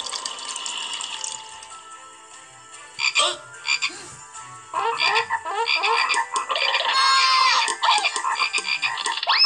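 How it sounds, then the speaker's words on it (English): Many frogs croaking in a dense chorus, loud and close, with overlapping rattling calls that start sparse and build to a continuous clamor, no talk over it. "There's so many frogs."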